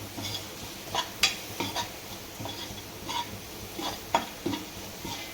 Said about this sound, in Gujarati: હવે બધો મસાલો આપણે મિક્સ કરી નાખવાનો છે અને હલાવી નાખવાનો છે.